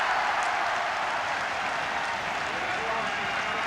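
Finnish supporters cheering a goal late in a Finland v England football match, a broad, steady roar of crowd noise and clapping sustained throughout, with a commentator's voice faintly present beneath it.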